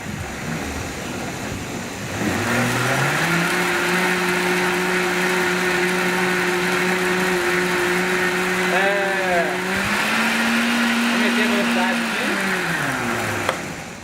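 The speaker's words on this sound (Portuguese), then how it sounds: "Só bati o tempero, deu um espuma porque o liquidificador é muito potente" Powerful kitchen blender whirring through a liquid seasoning with oregano for sweet potato palmito, starting up loud and holding a steady high motor whine with pitch shifts and a brief dip before spinning down.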